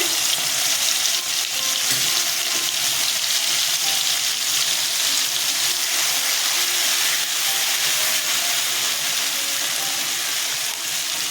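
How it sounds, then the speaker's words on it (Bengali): Green chillies and nigella seeds hiss and sizzle loudly in hot tempering oil for a Bengali drumstick, mustard and potato chorchori. The frying is close and continuous, with occasional faint stirring sounds and no talking. "দুটো কাঁচা লঙ্কা ফোড়নে দিলাম কালো জিরে দিলাম ফোড়নে মশলাটা ছেড়ে দিচ্ছি"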